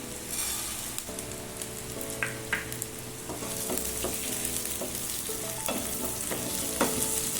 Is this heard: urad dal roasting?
yes